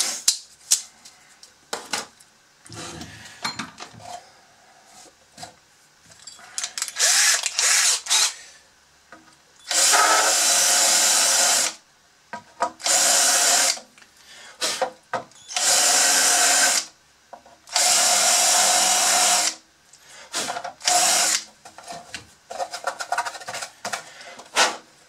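A power drill cuts a thread into a part of a Bruder Volvo dumper toy being converted to RC, with scattered clicks and handling noise and then several loud, close, sustained drilling bursts separated by short pauses.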